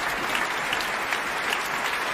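Concert hall audience at the Helsinki Music Centre applauding steadily after the first movement of Prokofiev's Sinfonia Concertante, a dense, even wash of clapping throughout with no pauses.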